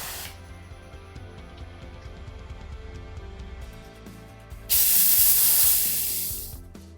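Air rushes out of a Reserve Fillmore tubeless bicycle valve as a sudden loud, close hiss. It starts after a few seconds of quiet handling clicks, holds strongly for about two seconds, then slowly tapers.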